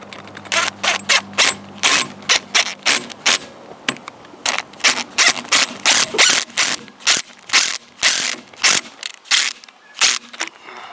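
A screw is driven into a masonry anchor, producing a loud, close run of rhythmic grinding, ratcheting bursts that repeat steadily for several seconds with brief pauses between them.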